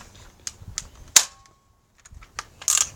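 A toy Nerf gun fires and clicks in a small room: a handful of short, light snaps and plastic clacks, one louder pop near the middle and another toward the end, separated by quiet gaps.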